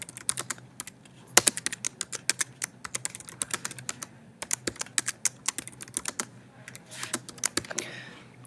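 Quick, uneven keystrokes rattle on a computer keyboard in bursts of close, crisp clicks, with short pauses between runs and a quiet hum underneath.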